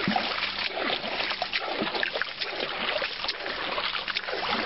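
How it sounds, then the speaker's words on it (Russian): Water sloshes and splashes continuously, churned by hand in a steady swirling motion, close by with no talking. "перемешаю воду."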